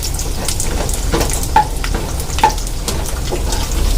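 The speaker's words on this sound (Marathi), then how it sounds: "आपले बोंबील चांगले लालसर असे फ्राय झालेले आहे" Bombay duck (bombil) fish frying in a pan, a steady close sizzle with a couple of brief sharp crackles standing out over the continuous hiss.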